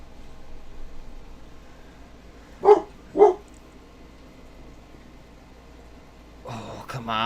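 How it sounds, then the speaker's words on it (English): A pet dog barks twice in quick succession somewhere in the room, sharp and fairly close, over a steady low electronic hiss; a brief rustling noise follows near the end. "Sorry for my dog."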